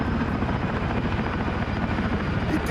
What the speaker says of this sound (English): What helicopter do I hear? That's the, I think the Chinook's on the other side of the carrier near the water.